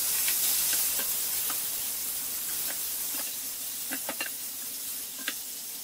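Diced beef cooking in a pot with melted fat gives a steady close hiss and sizzle, with scattered small pops and crackles breaking through.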